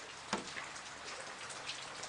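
Light rain patters on the ground and surfaces around a safari vehicle at a game reserve, a faint steady hiss with scattered soft drop taps and one sharper drip, quiet and without voices.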